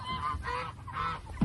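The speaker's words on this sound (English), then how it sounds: "And 2 little geese." Two young geese kept with pastured broiler chickens give a run of nasal honks, close and fairly loud, in short repeated calls with no talking over them.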